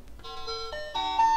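A button on a toy delivery scooter sets off a tinny electronic jingle, a chain of bright synthesized notes stepping up and down like an ice cream van tune, close and clear with no voices.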